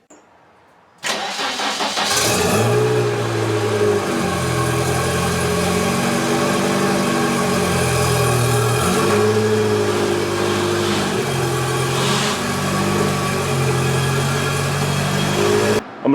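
A BMW 2002 car engine catches and starts, then runs steadily close by with a mid-pitched drone, revving up and easing off several times over a slight rumble. Nobody speaks.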